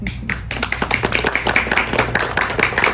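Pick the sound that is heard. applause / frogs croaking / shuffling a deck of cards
applause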